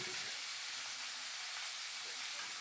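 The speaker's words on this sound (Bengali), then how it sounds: "এবার আমি আলু আর বেগুনটাকে ভালো করে এই তেলের মধ্যে ভেজে নেব" Potato and eggplant pieces fry in oil for a bitter gourd dish, giving a steady, even sizzle and hiss that runs the whole time with no talking.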